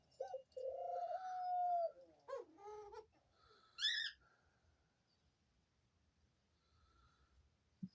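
A pet dove coos beside her cage, a few soft, close hooting coos and rolling calls in the first four seconds, then near silence with faint background murmur.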